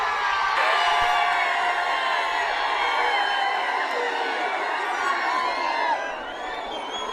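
A large crowd roars with whoops and shouts at a bullock cart race semi-final at the Pusegaon ground, the cheering loud and sustained before easing slightly near the end.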